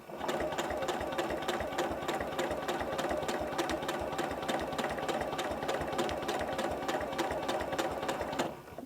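A sewing machine stitches a seam steadily, the fabric run along the edge of a guide, giving a fast, even, continuous mechanical chatter up close for the whole stretch.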